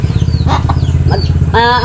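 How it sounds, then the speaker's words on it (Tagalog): A motorcycle engine holds a steady low drone for about two seconds while birds chirp nearby, and a rooster crows loudly near the end. "kung may narinig kayo na na may motor"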